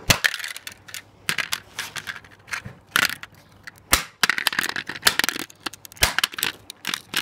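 A house phone being smashed, with repeated sharp cracks and crunching impacts in irregular bursts, loud and close, with no talking.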